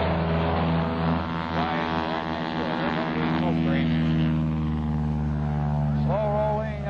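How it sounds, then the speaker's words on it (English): Old crop duster airplane taking off at an air show, its engine a continuous loud droning roar with shifting pitch throughout. "And now here's Bill Adams starting his takeoff for the air show opening."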